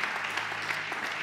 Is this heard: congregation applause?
yes